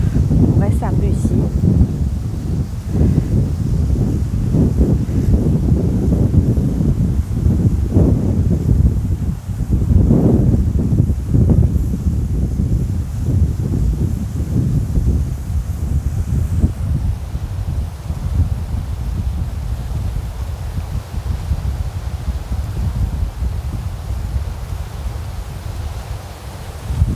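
Sea wind beside a seafront restaurant and bar in Mauritius buffets the microphone in a continuous rough roar with gusty surges, loud and close throughout, no clear voices over it.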